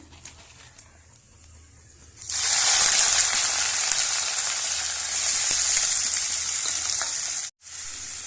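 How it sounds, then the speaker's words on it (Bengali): Cauliflower pieces fry in hot oil with whole cumin seeds in a kadai; after a quiet start a loud, steady broadband sizzle bursts in and holds close-up, cutting off abruptly near the end, then briefly resuming. "দেখো এবার ফুলকপিগুলো ভেজে নেব।"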